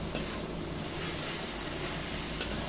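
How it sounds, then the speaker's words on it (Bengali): Spice paste sizzling and being stirred in a pan for a potato and cauliflower curry, a steady close frying hiss with faint scraping and two brief sharp scrapes. "এবার আমি একটু ভালো করে ভাজবো, যতক্ষণ মশলার গন্ধ না গেছে ততক্ষণ কিন্তু ভাজবো মশলাটাকে।"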